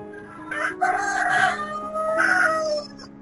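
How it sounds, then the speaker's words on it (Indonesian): A rooster crows loudly and close by, two long drawn-out calls rising and falling over about three seconds, heard alone without speech. "Ayam siapa itu?"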